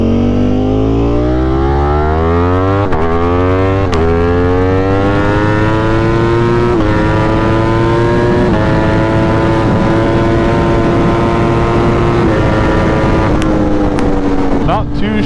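A 208-horsepower Ducati motorcycle accelerates hard up a highway on-ramp, its engine loud and close as the pitch climbs through several gears, with wind rushing over the microphone throughout.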